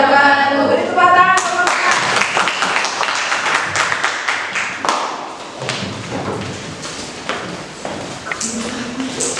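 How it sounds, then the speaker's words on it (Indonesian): A small classroom group claps after a presentation, scattered and uneven hand claps with thuds and taps rising then tapering off, with some talk and a brief tonal sound at the start. "Beri tepuk tangan."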